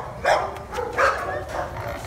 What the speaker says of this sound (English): Are you hearing those other dogs?